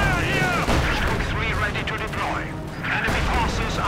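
Dense, continuous machine gun fire and battle noise from the strategy video game Company of Heroes 2 roar throughout, with a voice talking over the gunfire.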